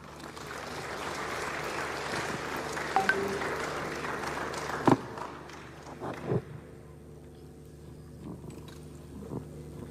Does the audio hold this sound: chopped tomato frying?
no